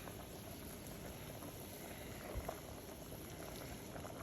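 Brown lobster sauce for shrimp boiling in a pot, a dense, steady bubbling simmer heard close and fairly quiet, with a faint clink partway through.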